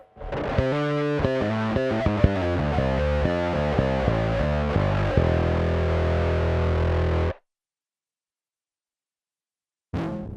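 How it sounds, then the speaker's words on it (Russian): Bass guitar played through a Zoom B1 Four processor on a combined wah and distortion preset: a run of gritty, fuzzy plucked notes with sweeping filter, ending on a sustained held note that cuts off, then a brief restart. "Пресет, совмещающий квакушку и дисторшн."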